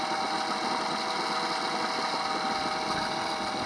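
Continuous buzzing idle of a Honda 8 hp outboard motor, steady and close, with a high whiny drone and no pauses.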